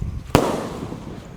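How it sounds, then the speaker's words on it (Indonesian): Bima Sakti 4 firecracker going off with a single sharp, loud bang, followed by a brief rumbling decay and low background noise. "Kita semakin besar-besar mercon yang kita nyalakan ya. Sudah menyala Bima Sakti 4."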